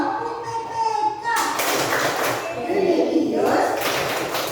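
Children clap rhythmically while chanting the PPK clapping chant in unison, a group of young voices with sharp hand claps mixed through the chanting.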